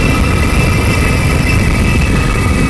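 A flexwing microlight's engine with the throttle closed on base leg, a steady loud droning idle running continuously without a break.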